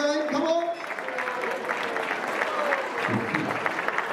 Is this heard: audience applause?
yes